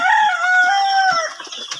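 Laying hens in full egg production at a poultry farm in Rangpur give a loud, close, drawn-out cackling call with no voices over it.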